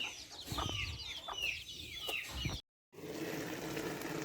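Rooster and hens on a farm cluck close by in repeated, overlapping bursts, followed by a brief cut to silence and then a quieter, softer ambience.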